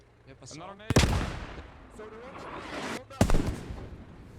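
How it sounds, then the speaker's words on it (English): Two sharp, heavy blasts from grenades going off in the WWII shooter Post Scriptum during a church siege, about two seconds apart, with battlefield rumble and voices talking between them. "Grenades going on the inside."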